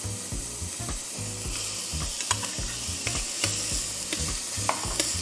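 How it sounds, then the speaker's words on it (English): Celery sautéing in a pot for vegetable soup, a steady sizzle under rhythmic scraping stirs that repeat roughly every half second, close and fairly quiet. "And then we're gonna add some celery."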